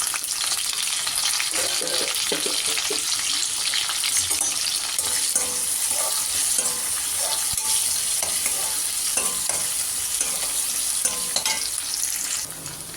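Shallots and curry leaves fry in oil with a continuous bright hiss and crackle, steady throughout, with occasional stirring scrapes and no talk.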